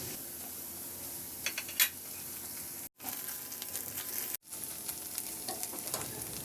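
Onion and tomato paste sizzle in a pan with chicken for hot garlic chicken: a steady frying hiss runs throughout, with occasional stirring scrapes and two brief gaps in the sound.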